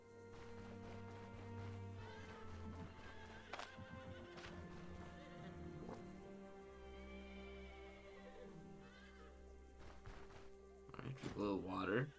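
In the Stoneshard video game, horse neighs and hoof sounds blend with droning tones and spoken dialogue, ending in a sharp, rising whinny burst near the close.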